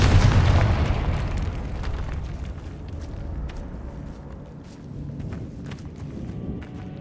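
A Confringo fire spell explodes in Hogwarts Legacy: one loud booming blast at the start, then a rumbling decay under quieter game ambience and scattered small pops.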